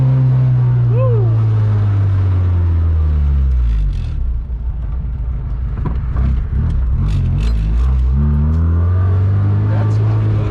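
A Honda Civic's engine drones loudly while driving, its low steady tone rising and falling as the car revs, with road rumble and a brief voice over it.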